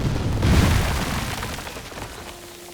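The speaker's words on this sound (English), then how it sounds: "Calling in artillery." Artillery bombardment in Headquarters: World War II, set in the Ardennes, lands as a heavy, close boom that peaks within the first second, then rolls and rumbles away as it fades.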